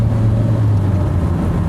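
A Skoda Favorit engine drones and strains at a steady, low pitch, loud and close, with a rough hum but no sharp rise in revs; the engine is low on oil.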